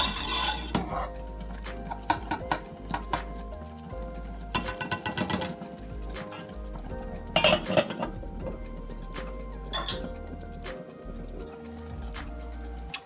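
A spoon scrapes and clinks against a metal pot, stirring oatmeal with milk over medium heat in repeated strokes, close up, over a low steady stovetop hum.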